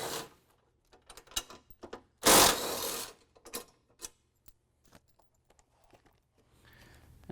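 A ratchet works loose two 15mm bolts on a front bumper being swapped for a Hammerhead unit, giving quick clicking bursts and clanks with one louder grinding stretch, close and alone without talk.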